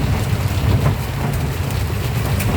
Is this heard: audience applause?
no